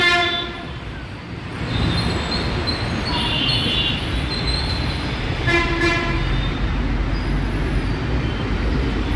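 A metro train runs along a 200-foot road at Habsiguda, Uppal, its wheels and carriages rumbling steadily nearby while the horn sounds in short repeated blasts, with no voices over it.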